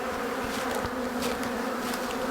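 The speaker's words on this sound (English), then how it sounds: "A ton of bees down here that will have to find their way into there." Honey bees hum in a dense, continuous buzz around a hive entrance, close and steady with slight swells in intensity.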